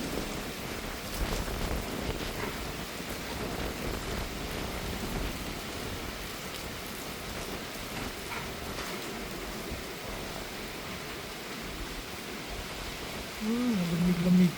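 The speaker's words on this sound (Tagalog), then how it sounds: "Dyan na naman yung hangin na may kasamang ulan." Typhoon Tino's wind-driven rain lashes Panglao, Bohol in a steady, loud broadband roar for the whole stretch, with a brief voice surfacing near the end.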